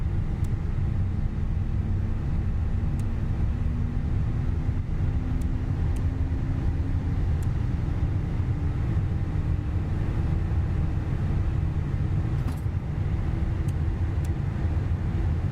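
Airbus A320 jet engines running after start in the Microsoft Flight Simulator 2020 cockpit, a steady loud broadband roar with a low hum and a slowly rising whine, continuous throughout with no talk.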